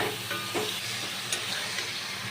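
Marinated chicken fries and is stirred in a pan over spiced masala, a continuous low sizzle broken by a few soft scraping strokes, with no voices.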